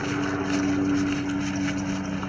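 Steady low drone of an aircraft engine with a sustained tonal hum, most likely a helicopter overhead, loud and continuous with no talk over it.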